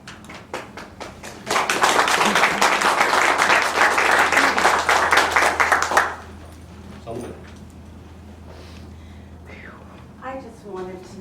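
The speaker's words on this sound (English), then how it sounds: "You deserve a big applause for that." An audience at a school board meeting breaks into loud, dense applause that swells after a few scattered claps, lasts several seconds, then cuts off into quieter room noise with people talking.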